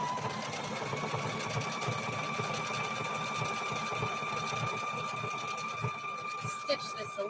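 A sewing machine stitches a seam through a denim quilt made from jeans, running steadily and close throughout, with a few brief rattles near the end.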